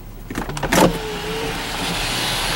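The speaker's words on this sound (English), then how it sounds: "One touch to open the curtain." A Buick LaCrosse CXL's electric sunroof curtain opens with a click followed by a smooth, steady motor whir that carries on inside the quiet car cabin.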